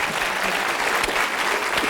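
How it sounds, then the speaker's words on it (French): A studio audience on a French TV quiz show, Who Wants to Be a Millionaire, applauds steadily, a dense, continuous roomful of clapping with no pauses. "Je demande au public de vous applaudir."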